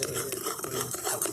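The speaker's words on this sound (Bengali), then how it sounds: "এবার চিনিটাও খুব ভালো করে আমের পাল্পের সঙ্গে মিশিয়ে নেব।" Sugar being stirred into mango pulp in a pan, a spoon scraping and clinking against the metal in quick, close, irregular strokes with soft wet mixing sounds.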